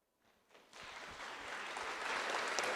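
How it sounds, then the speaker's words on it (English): Audience applause at an urban mobility forum in Lviv, starting faint and quickly building into sustained, dense clapping from a large hall that stays loud to the end. "Hope you hear this applause to you."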